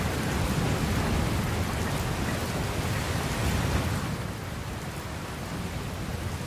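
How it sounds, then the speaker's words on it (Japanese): Heavy, steady rain pours across a stormy scene in Dragon Quest Builders 2, with low rumbling thunder beneath. The dense, even hiss stays loud throughout and eases slightly near the end. No one speaks. "これはまずい、嵐だ"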